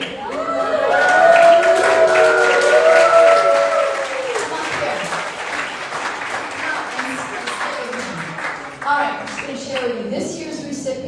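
An audience at a yoga studio's 20th anniversary celebration applauds an award recipient with sustained clapping and cheering, loud and dense at first, then tapering, with voices calling out over it.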